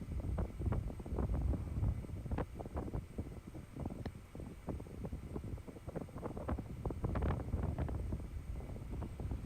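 Gusty wind buffets the microphone on an open dry lake bed at a high-desert STOL fly-in, a steady low roar with repeated bursts of louder gusts throughout and no talking.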